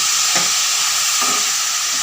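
Pink and oyster mushrooms sauté in a pan for a chapati curry, giving a steady, close frying sizzle with a few soft stirring scrapes and no voices.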